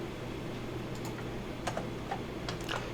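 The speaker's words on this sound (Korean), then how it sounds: "키보드에 Alt키를 누르고요" A few faint, sharp clicks of a computer keyboard's Alt key being pressed, sitting over a steady low room hum with no talking.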